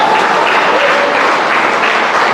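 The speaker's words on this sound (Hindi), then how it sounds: "इसलिए एक बार आईएमसी के लिए जोरदार ताली बजाएंगे" A seminar audience gives a burst of dense, loud, continuous applause for IMC that holds steady from start to finish.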